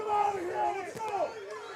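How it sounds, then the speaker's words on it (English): A high school football crowd in the stands growing rowdy, with shouting and yelling voices that rise and fall over a steady murmur of spectators. "The crowd getting a little feisty about those Redbirds right now"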